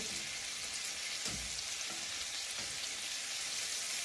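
Chicken strips deep frying in hot oil in a home kitchen, a steady bright sizzle and crackle with a few soft clunks from moving the pieces, quiet and close.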